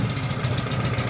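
A large gold drum's engine idles steadily under a metal roof, a continuous low mechanical hum with a faint rhythmic knock, close and fairly loud with no talking.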